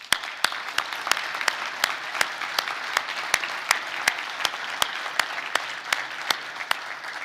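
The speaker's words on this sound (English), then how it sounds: "please join me in a round of applause for our entire team" An awards ceremony audience applauds, fairly faint and distant, with a soft wash of clapping pierced by sharp, evenly spaced individual claps throughout; no speech.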